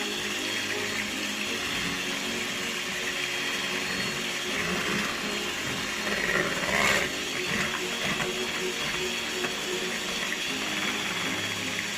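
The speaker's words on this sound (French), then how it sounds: "je vais prendre mon batteur électrique. Je vais battre les œufs jusqu'à qu'ils doublent de volume en rajoutant du sucre" An electric hand beater whirs steadily through eggs being whipped with sugar for a Brazilian chocolate cake, a constant close mechanical hum with slight splashy texture.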